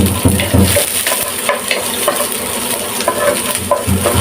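Onion sizzling and being stirred in a hot pan for tomato-braised tilapia, with a loud continuous fry and repeated scrapes and light metallic clicks from the utensil.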